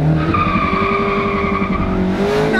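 A rear-wheel-drive sports car with about 181 horsepower launches from a standstill in first gear with traction control off, loud rising engine and squealing, skidding tyres throughout.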